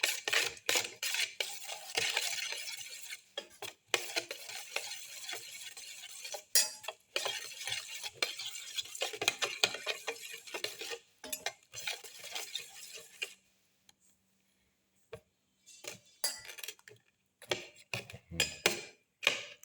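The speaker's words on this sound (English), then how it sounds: "Put in salt to taste. Mix in the salt." Salt being mixed into a raw egg omelette mixture with black pepper and mint leaves, heard as close, continuous scraping and clinking of a utensil against a bowl, with a brief pause before irregular taps resume.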